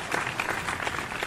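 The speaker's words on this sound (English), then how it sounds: "clap it up for Becca" A brief burst of applause, many hands clapping in a dense patter, moderately distant.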